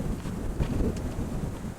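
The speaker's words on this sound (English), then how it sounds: "Blowing an absolute gale here." Strong gale-force wind blows during a severe storm in the Southern Tablelands, a loud, continuous low roar buffeting the microphone in uneven gusts throughout.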